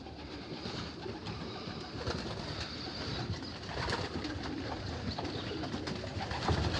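Young racing pigeons in a loft coo continuously in a dense, steady chorus, with soft wing flutters and shuffling throughout and no voices.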